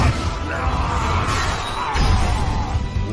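Meliodas, the anime hero of The Seven Deadly Sins, screams in the Latin Spanish dub: a loud, raw, sustained yell that fills the whole stretch with dense noise and never breaks.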